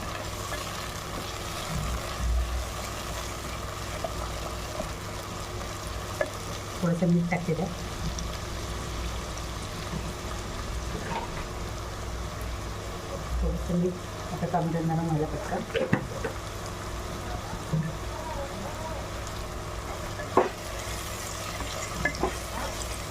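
Tomatoes go into frying onions for a spicy clam (kalve) dish, giving a soft continuous sizzle with intermittent stirring scrapes and a few clunks of a utensil against the pan, at moderate level throughout.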